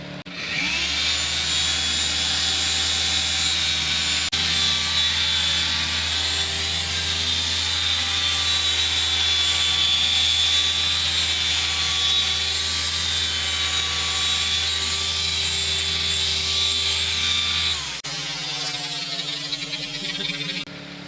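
A car polisher fitted with a blue cutting pad runs at full speed working ceramic compound, giving a loud, steady motor whine and drone close by that holds for most of the run, then drops to a lower hum near the end.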